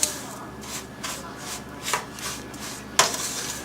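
Graham cracker crumbs, sugar, cinnamon and melted margarine are stirred in a springform pan, giving soft scraping and rubbing strokes in a loose repeating rhythm, close and fairly quiet.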